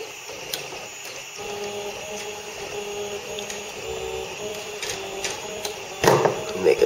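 A 3D printer print head hums and whirs steadily as it feeds yellow filament, with a sustained mechanical drone and brief clicks, ending in a short burst of louder handling noise.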